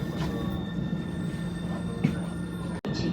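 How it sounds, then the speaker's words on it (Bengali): Steady rumble of a Milan M4 metro train running, heard from inside the carriage, with a continuous low hum, faint high whine and a brief dropout near the end. "মেট্রোর ভিতরে বসে আছে"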